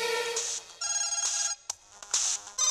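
A mobile phone rings from inside a pocket, a melodic ringtone in several bursts with short gaps, moderately loud and close, with no talk over it.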